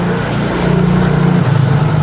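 A motorcycle engine under repair idles nearby, a loud low hum that dips slightly in pitch partway through, with no voices.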